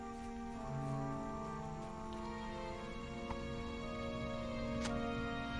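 Rain in Lord of the Rings Online, a soft continuous patter under steady tonal game music, with a few faint isolated clicks and no speech.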